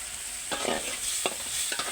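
Fish frying with tomatoes being stirred in a pan, a steady close sizzle with a few soft scraping strokes of the spatula and no talking.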